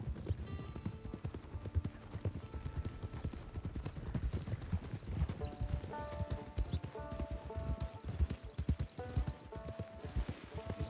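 Horse hooves clip-clop steadily in Red Dead Redemption 2 Online, a continuous close rhythmic trot with faint background game music.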